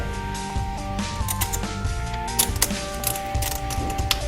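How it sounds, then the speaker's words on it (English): A nut is threaded and tightened onto a 2 3/4 inch T-bolt clamp on a Mishimoto intercooler kit for a 2010-2012 Hyundai Genesis, heard as close, quick ratcheting clicks and small metallic turns in repeated bursts. "Screw that nut on there, and then when we're gonna tighten down on this guy."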